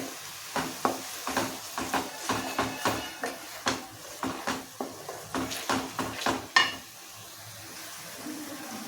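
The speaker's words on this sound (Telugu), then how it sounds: "చూడండి, ఆయిల్లో ఎంత బాగా ఉడుకుతూ ఉందో." A fish curry of golden-thread fish simmers in oil, seasoned with turmeric and salt, with a run of sharp, rhythmic clinks and scrapes like a spoon stirring in a metal pot over faint bubbling.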